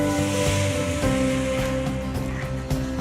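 About a jug of water pours steadily into a cooking pot for soya biryani, a continuous rushing splash lasting the whole stretch with a faint steady hum beneath.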